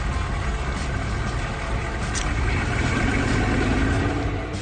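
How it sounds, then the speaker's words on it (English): A haul truck engine idles steadily, a dense low rumble that holds at a constant level throughout with no talking. "This is a haul truck."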